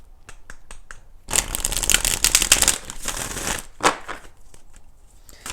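Tarot cards are shuffled nearby: a few crisp taps, then a loud riffling burst lasting over a second, followed by more scattered snaps and flicks.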